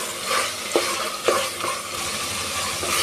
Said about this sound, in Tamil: இந்த சிக்கன் நல்லா இது கூட மசாலா கூடவே நல்லா வதக்கணும்